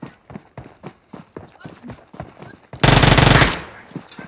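An M4 rifle fires a loud, rapid burst of gunfire lasting under a second in the mobile game BGMI, following a run of rhythmic footstep-like taps, with players talking over it.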